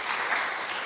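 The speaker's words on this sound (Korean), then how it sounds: "우리 인사하실 때 큰 박수로 우리 맞아주시기 바랍니다." Brief burst of applause from a church congregation at a Sunday service, a dense, even clatter of many hands lasting under a second.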